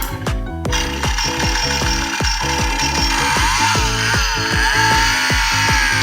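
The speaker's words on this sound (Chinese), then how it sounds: "第一个是有音效的电锯" A battery-powered toy gachapon chainsaw plays its engine sound effect: a loud, close, continuous mechanical chugging with a rapid regular rhythm and a revving whine, starting after a brief pull-start noise, with no talking.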